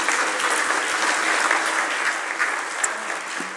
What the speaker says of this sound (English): let's all go give ourselves a round of applause